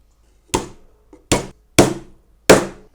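A hammer strikes nails into a wooden National beehive super in four sharp, separate knocks, close and loud, with silence between them.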